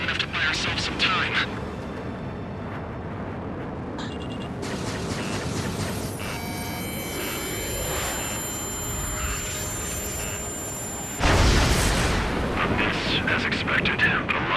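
Railgun fire and explosions rage through an Ace Combat 7 aerial battle: a sustained roar of blasts and rumbling, then a sharp louder burst near the end, with radio voices talking underneath.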